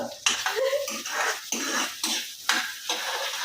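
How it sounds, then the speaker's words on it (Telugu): Onions being stirred into hot oil in a pan while cooking beetroot fry, with a spoon scraping and clinking against the metal pan in repeated strokes and a soft sizzle beneath, close and fairly loud. "ఇప్పుడు ఆనియన్స్ వేసినాక కలపాలి కదా"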